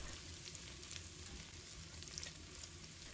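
Pork belly with sliced garlic and fermented black beans is stir-fried over high heat in a wok. A faint, steady sizzle carries light stirring clatter, heard close with no one speaking.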